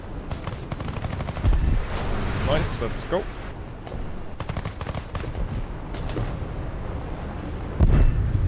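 Rapid bursts of aircraft gunfire in a combat flight video game flying Swedish planes, crackling in repeated volleys at close range with a player talking over the shooting.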